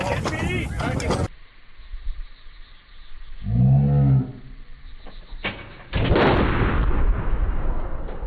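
A howitzer fires during a high-intensity training session, with loud booming blasts and a deep rumbling roar, amid shouted voices and wind noise.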